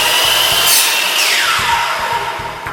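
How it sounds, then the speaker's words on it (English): A power drill pre-drills into a concrete slab to fix hardwood battens for timber flooring, a loud, close motor whine that holds steady and then drops in pitch as it bogs down. "We then pre-drill the concrete and fix these hardwood battens at 450mm spacings."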